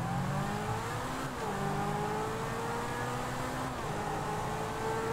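A Lamborghini in GTA 5 revs hard, its engine tone climbing and dropping in repeated sweeps, loud and close with a steady whirring roar and no talk over it.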